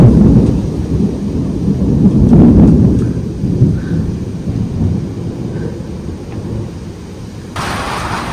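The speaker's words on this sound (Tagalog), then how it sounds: "Yan, lakas ng kulog." During a typhoon rainstorm, a loud, deep rumble of thunder rolls and swells before fading, over a steady hiss of heavy rain outdoors.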